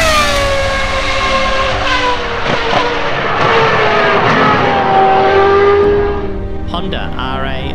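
A 2002 Ferrari Tipo 051 V10 Formula 1 engine revs hard toward 18,000 RPM, a loud, piercing, high scream with rising and falling pitch sweeps that cuts off near the end.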